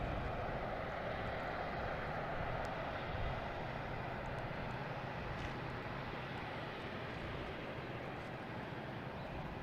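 An Airbus A319 airliner at Boston Logan, heard as a faint, distant, steady broadband rumble of engine noise throughout, without voices.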